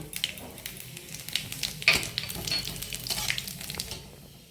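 Nigella seeds and carom seeds dropped into hot oil crackle and sizzle loudly, a busy fizzing hiss with sharp pops and a spike near the middle, tapering slightly toward the end.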